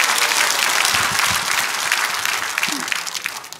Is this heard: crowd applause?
yes